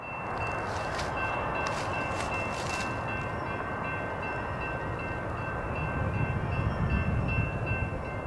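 An Amtrak westbound passenger train rolls past at Douglasville, Georgia, a steady rumbling wash of wheels on rails with faint high squeals, heard from trackside with some wind noise.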